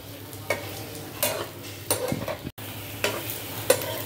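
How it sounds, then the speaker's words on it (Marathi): Sweet potato fries being sautéed in ghee in a pan sizzle under a steady hiss, with a spatula scraping and turning them in repeated close strokes about every half second. "परतून घ्यायचे आहेत चांगले."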